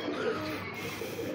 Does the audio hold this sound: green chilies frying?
no